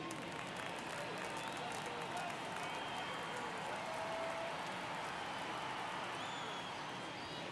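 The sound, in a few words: baseball stadium crowd cheering in video game MLB The Show 24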